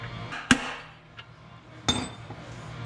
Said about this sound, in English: I might be able to hammer the standard bit in there.